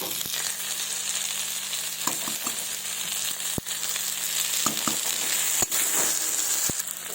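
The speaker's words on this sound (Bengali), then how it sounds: "এবার ভালোভাবে মশলাটাকে কষিয়ে নেব" A ground paste of dried red chilli, ginger and cumin fries in a pan for a fish and okra dish, giving a constant close sizzle broken by a few sharp clicks and taps of stirring.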